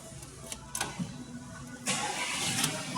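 A 2015 Skoda Octavia A7 with a 1.4 TSI petrol engine fitted with an LPG conversion cranks briefly after a couple of clicks, then catches and settles into a steady idle, heard close from inside the car.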